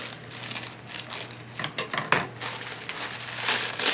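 Cutting open a small plastic bag of angel hair decoration: close crinkling and rustling of the packaging with a few sharp snips and crackles, steady and fairly quiet, with no voices.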